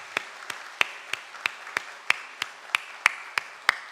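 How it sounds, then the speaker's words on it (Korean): A church congregation claps to welcome three visitors from Cambodia during a Sunday morning service, producing a steady, evenly spaced run of about twelve sharp claps, moderately quiet, with no talking. "자, 우리 먼 나라에서 왔는데 우리 박수로 환영하겠습니다."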